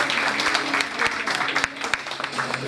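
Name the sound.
audience applause for a dance pair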